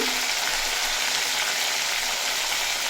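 Cauliflower florets frying in hot oil with salt and turmeric powder for a vegetarian Bengali dish, a steady, dense sizzle crackling throughout at close range with no talk.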